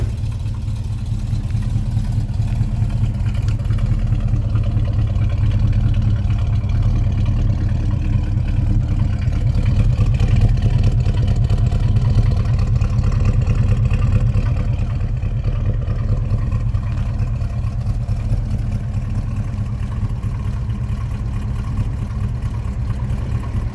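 Deep, steady rumble of a 1973 Chevy Camaro Z28 engine running at a constant idle, loud and close, with no talking.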